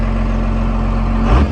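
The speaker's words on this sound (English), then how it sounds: "The truck, like I said, is pretty quiet since it still does have the muffler." A truck engine with its muffler still fitted idles steadily close by, a low, even rumble with a constant hum that holds without change, no voices.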